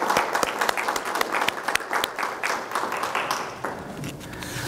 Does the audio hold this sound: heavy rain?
no